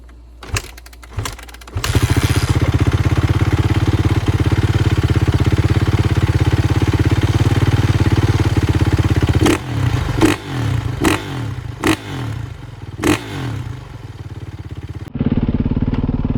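A rebuilt Kawasaki KX 450 motorcycle engine, repaired for a transmission problem, kicks over with a few sharp pops, then fires and runs loudly close by, with several throttle blips and revs before dropping to a steadier idle.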